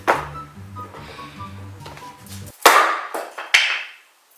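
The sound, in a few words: hammering wood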